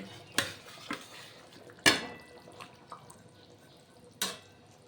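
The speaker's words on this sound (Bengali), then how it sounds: "এবারে আমি ভাজা মাছগুলো এই ঝোলের মধ্যে দিয়ে দেব এক এক করে" Several separate clinks and soft plops in a quiet kitchen, a few seconds apart, as pieces of fried rui fish are dropped one by one into a pot of curry.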